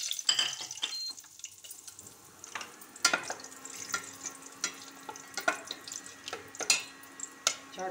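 Whole spices, bay leaves, green and black cardamom, cloves and a piece of cinnamon, crackle and sizzle in hot oil, with scattered sharp pops and light stirring clinks over a steady hiss.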